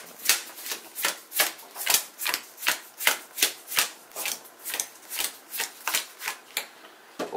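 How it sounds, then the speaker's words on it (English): Cards from the goods deck of the Sheriff of Nottingham board game are shuffled by hand in a steady, rhythmic series of about twenty crisp riffling bursts, close up and alone. "shuffling the goods deck, and that creates one big giant deck"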